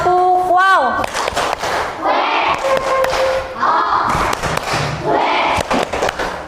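A school class doing the tepuk wow clapping chant, with sharp rhythmic group claps and thumps mixed with children's chanted voices and rising shouts, loud and close in a classroom.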